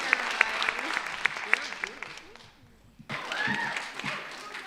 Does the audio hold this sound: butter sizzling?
no